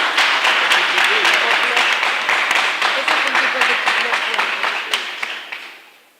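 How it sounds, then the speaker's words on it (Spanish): Warm, brisk applause from an audience greeting a guest at a national book fair talk, clapping densely and evenly before fading out toward the end. "De nuevo un aplauso."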